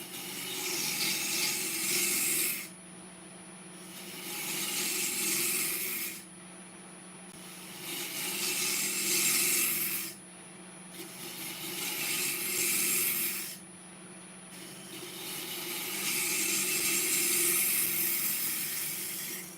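A bowl spins on a wood lathe as a tool works the surface, making four or five rasping, hissing passes of a few seconds each with brief quieter gaps between them, fairly soft and steady.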